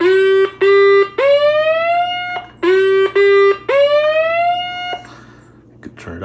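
A circuit-bent vintage Peace Radio transistor radio at low volume gives off repeating electronic tones: short buzzy beeps followed by longer rising, siren-like sweeps in a looping pattern, clear and close with a faint hum beneath.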